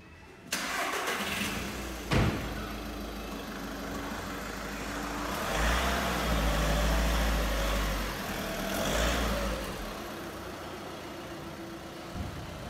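A Volkswagen Beetle 1.6 TDI diesel starts with a brief crank, then settles into a steady idle with a couple of light revs, heard close and fairly loud with no voices.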